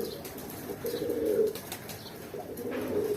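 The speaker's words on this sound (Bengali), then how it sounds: "এর মধ্যেও কালচিরা পায়রা আছে, দেখুন অনেকগুলো কালচিরা পায়রা রাখা আছে" Pigeons, including black-speckled birds, coo in a loft, with low, soft, rolling calls that repeat in two or three close bursts over a quiet background.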